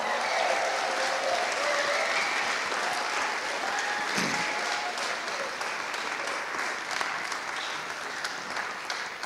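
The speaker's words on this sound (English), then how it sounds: "Let's give them a big round of applause." A church congregation gives sustained, dense applause for the Iceland mission team as they come to the stage, a steady wash of many hands clapping at moderate distance.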